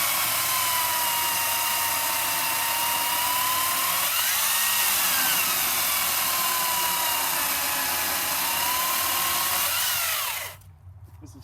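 Makita 18-volt cordless chainsaw cutting through a piece of sugar maple, a loud, steady high whine held for about ten seconds, then cutting off abruptly as the motor stops.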